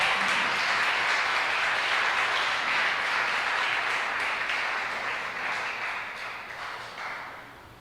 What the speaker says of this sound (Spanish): Dale fuerte el aplauso a Dios si se lo vas a dar.